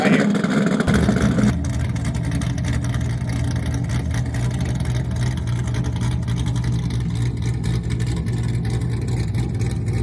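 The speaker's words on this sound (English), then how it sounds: "a cammed Corvette" A cammed Chevrolet Corvette C5 V8 idles with a choppy, lumpy rumble that stays steady and fairly close after a brief louder opening burst, continuing for about ten seconds.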